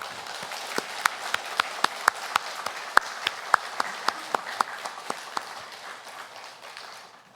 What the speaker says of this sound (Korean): 하나님께 감사의 박수를 올려드리겠습니다